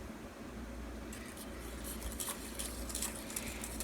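A utensil clinks and scrapes steadily against a pan as gelatin is stirred into milk for homemade yogurt, a quiet rhythmic tapping over a low background hum.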